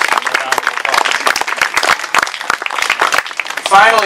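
Audience applause at a Cleveland statue anniversary ceremony, brisk loud clapping with some crowd murmur and a voice rising over it near the end.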